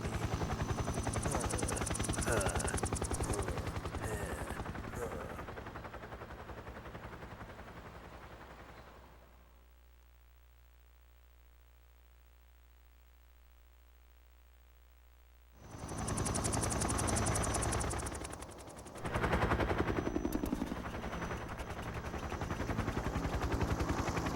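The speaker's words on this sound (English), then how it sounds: "Could 5 helicopters really reliably lift that off the ground?" Helicopters roar with rapid gunfire in the Metal Gear video game, a dense loud barrage that drops away into a low hum midway, then bursts back in full force.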